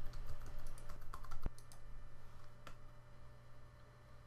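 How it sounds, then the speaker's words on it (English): Keystrokes on a computer keyboard entering an administrator password on an Avaya AS5300 setup screen, a fairly steady run of quick, close clicks that thin out toward the end over a low hum, with no voices. "For this test, I'll type in a mismatched password."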